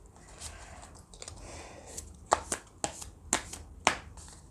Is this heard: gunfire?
no